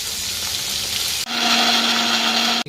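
Fish sizzles in a hot pan during cooking of Bengali fish kalia, a steady broad frying hiss with a brief interruption midway, heard without talk.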